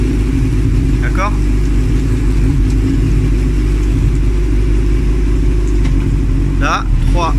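A Honda CB1000R motorcycle engine runs close by with a steady low rumble and slight rises in revs as gears are shifted, while someone talks over it.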